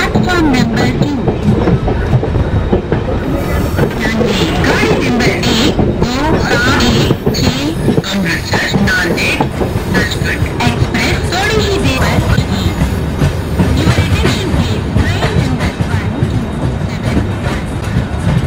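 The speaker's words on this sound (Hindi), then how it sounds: "train number 12716 Amritsar Nanded Sachkhand express will arrive shortly on platform number 2" Amritsar Nanded Sachkhand Express pulling into a platform, loud continuous rumble with rhythmic clickety-clack of wheels on rail joints close by for the whole stretch, a voice faintly in the background.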